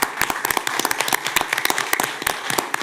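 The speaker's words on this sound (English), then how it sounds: "I ask everyone to just join me in a round of applause" Applause from the audience at a city commission meeting, honoring service members. A small crowd claps nearby, the sharp individual claps spaced out and uneven, steady for about three seconds with no talking.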